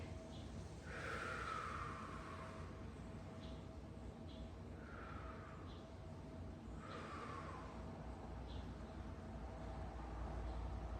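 Slow breaths in and out during a full-body stretch, three soft, airy exhalations spaced a few seconds apart over a faint background hiss, close and gentle.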